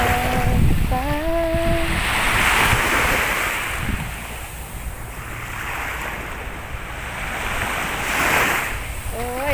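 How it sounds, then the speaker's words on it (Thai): Steady roar of sea waves washing ashore at Bang Saen beach in the morning, swelling and fading in broad surges, with some wind noise and faint tonal sounds at the edges. "เสียงคลื่นสับสาด"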